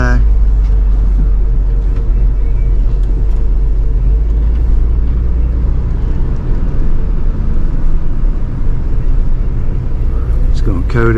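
A salt spreader truck with its spinner set high, a loud, steady engine rumble and droning hum running throughout, with someone talking over it.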